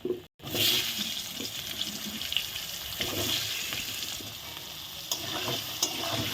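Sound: potatoes frying in oil in a pan

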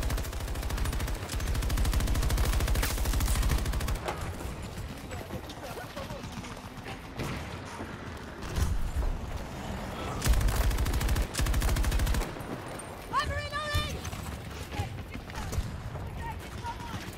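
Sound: gunfire from the video game Battlefield 2042

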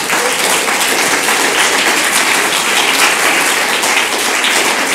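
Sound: audience applauding students

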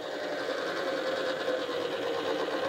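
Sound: Peruzzo front flail mower running on Kubota tractor

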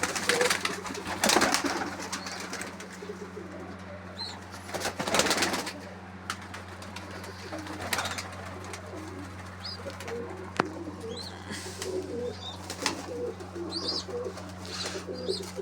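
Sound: pigeons cooing

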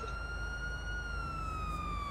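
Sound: police siren in video game GTA Online

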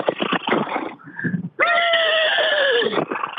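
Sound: people imitating a horse neighing

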